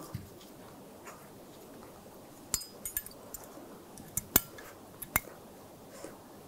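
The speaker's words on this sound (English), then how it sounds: "Take the anti-rattle clips or pad clips, put those on." Metal anti-rattle brake pad clips are fitted onto a 2013-2016 Dodge Dart front brake caliper, producing scattered sharp metallic clicks and clinks, a handful of crisp snaps close by over a quiet garage hum, with no talk.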